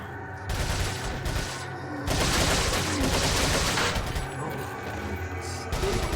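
Rapid submachine gun fire from a TMP in Resident Evil 4 HD, dense bursts rattling almost continuously and loud, with short gaps between volleys.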